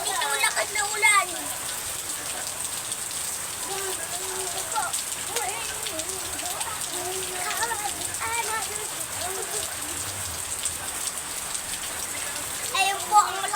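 Steady rain patters and hisses throughout, with voices talking intermittently over it.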